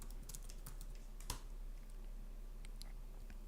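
Typing a short command on a computer keyboard, heard as soft, close key taps in a quick irregular rhythm, with one sharper louder click midway through, in a quiet room.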